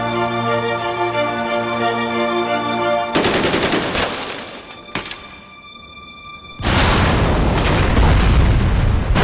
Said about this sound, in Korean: 도철이 가까워진 순간 현주는 트랩을 폭발시킵니다.